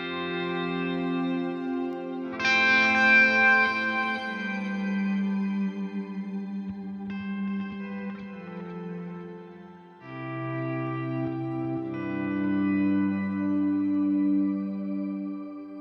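Electric guitar played through a vintage swell effect on a Line 6 Helix floor unit, sustained chords fading in smoothly with soft attacks and shimmering echo tails, several swells in succession without talk.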